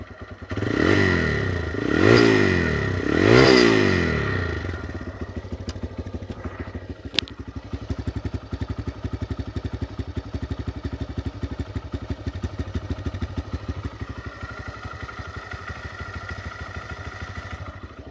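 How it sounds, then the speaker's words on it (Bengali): A 2024 TVS Raider 125cc motorcycle engine in good condition revs up three times in quick succession, then settles into a steady, close idle with a fast rhythmic putter for a long stretch. "গাড়ির সাউন্ড আপনারা শুনতেই পারলেন, একেবারে নতুনের মতো সাউন্ড আছে।"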